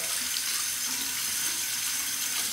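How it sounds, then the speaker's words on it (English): Hot tap water runs steadily over a Henson AL13 razor, a continuous close hiss of flowing water with no break and no voices. "I'll temper it under the hot water just to warm it up."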